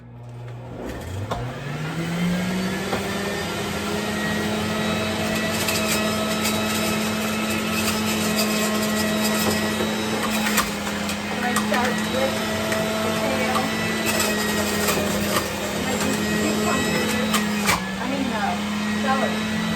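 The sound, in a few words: Breville juicer juicing organic celery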